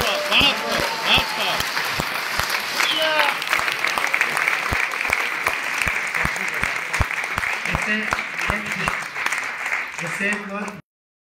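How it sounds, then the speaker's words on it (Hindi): An audience applauds at a comic Hindi poetry recital, a kavi sammelan: a loud, dense wash of clapping with sharp individual claps standing out, steady for about eleven seconds before cutting off abruptly. "एक बार मेरे लिए अच्छी तालियां बजाइए।"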